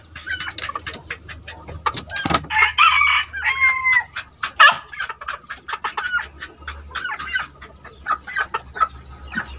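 A rooster crows loudly up close while hens cluck and chatter around it in short irregular bursts.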